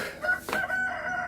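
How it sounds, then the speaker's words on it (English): A rooster crows in the Stardew Valley farming game, one short, bright call that stands alone over a soft background. "The rooster has been calling"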